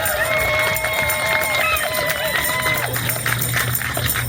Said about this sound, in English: Let's hear it for her. Let's give it up for Jessica